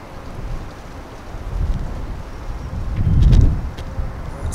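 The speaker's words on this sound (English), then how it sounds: "That's a good 25 mile an hour gust right there." Wind gust buffeting an external camcorder microphone fitted with a furry wind muff outdoors, a low rumbling roar that swells to a louder peak near the end, with no talking.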